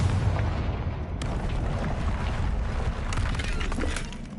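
Confringo blasting spell in Hogwarts Legacy erupting into a heavy, rumbling explosion with shattering debris, a loud continuous blast and crackle lasting several seconds with a sharp crack near the middle.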